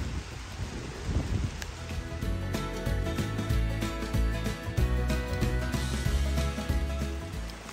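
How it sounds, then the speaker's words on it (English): Heavy rain pours near a sandstone rock shelter and arch in Red River Gorge, Kentucky, making a dense, steady hiss and patter with gusty wind buffeting the microphone throughout. "Not sure how well it picks up on video, but raining pretty hard right now."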